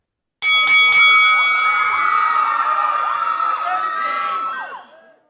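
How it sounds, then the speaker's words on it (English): A wrestling ring bell clangs three quick times, then its bright ringing tone carries on for several seconds, loud and close, with no talk over it. "Let's ring the fucking bell."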